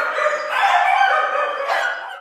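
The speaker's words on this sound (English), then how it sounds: "Every puppy, poodle, and pug was howling." Several dogs in an animal shelter bark and howl together, a loud, close, sustained chorus of overlapping yelps and wavering howls with no talk.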